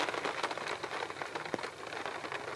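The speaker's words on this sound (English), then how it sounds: "it's raining" Steady patter of rain falling on a surface nearby, a soft continuous hiss with scattered drops.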